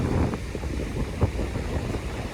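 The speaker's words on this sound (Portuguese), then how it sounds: "Tá muito vento." Strong wind blows at the seaside at Pontal de Maceió in Fortim, Ceará, buffeting the microphone with a steady low roar, surf faintly underneath.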